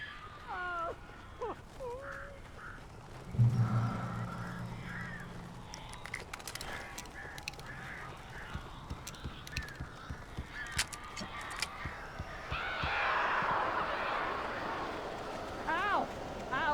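Crows caw in the Alan Wake video game, a few harsh calls breaking through a dim ambient backdrop, with voices speaking at moments.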